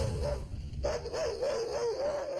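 An aggressive, reactive dog growls and barks in a wavering, sustained snarl, close and fairly loud, with a short dip before the rough vocalizing resumes and continues to the end.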